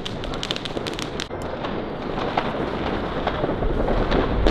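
New Year's fireworks of zinc rockets boom and crackle in a residential neighbourhood, a dense run of sharp bangs and crackling bursts giving way to a deep, sustained rumbling roar that grows louder toward the end.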